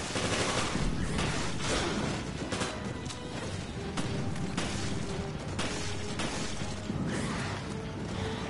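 Gunfire rings out in Resident Evil Revelations as a rapid run of sharp, loud shots cracks over several seconds, irregular bursts layered with crashing impacts and mechanical clatter.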